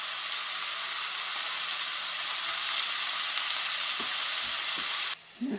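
Bacon fries in a pan with a steady, bright sizzle close by for several seconds, then a short clatter as the sound cuts away near the end; no talking.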